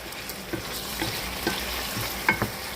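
Chicken and vegetables sizzle in a pan with a soft continuous frying hiss, broken by a few spoon scrapes and light clinks, close and quiet with no talking.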